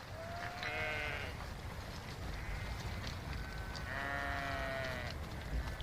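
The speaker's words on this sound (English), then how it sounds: "The sheep are brought down from the frozen hills at this time of year to the shelter of farm buildings." Sheep in Welsh farm buildings, brought down from frozen hills, bleat in two clear drawn-out calls near the start and again later, over a steady barn hum with no talking.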